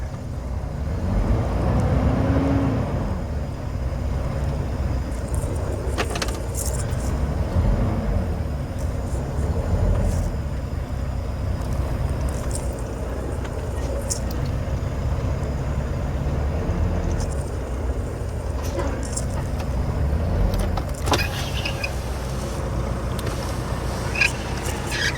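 A vehicle sits stuck in a snowy field near New Castle, Colorado, its engine droning steadily as the wheels spin without grip. A low, continuous rumble rises and falls slightly throughout, with no talking.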